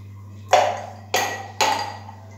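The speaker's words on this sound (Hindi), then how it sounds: "तो अब हम थोड़ी सी बर्फ़ ऐड कर देंगे" Ice cubes dropped into a glass of plum sharbat drink, three sharp clinking impacts at even intervals, each ringing briefly and close, over a low steady hum.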